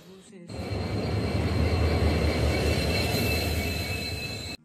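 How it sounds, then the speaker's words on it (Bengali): A train arriving and rolling along, its loud rumbling roar of wheels on rails swelling after a brief quiet start and holding steady, with a faint high squeal above. "ট্রেন এসেও পড়েছে আর আমি উঠে পড়েছি ট্রেনে।"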